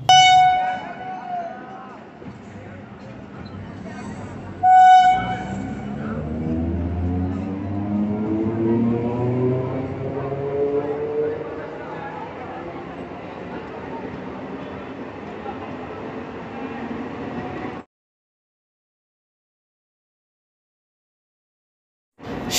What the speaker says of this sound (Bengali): প্রথমে খড়দা থেকে ট্রেনে করে যাচ্ছি শিয়ালদা স্টেশন।